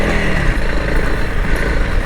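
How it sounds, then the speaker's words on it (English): A 2021 Honda CRF 300L Rally motorcycle ridden off-road, its engine giving a steady, throbbing drone close by, with wind rush over it and no talk. "I'm on the Honda 2021 Honda CRF 300L Rally."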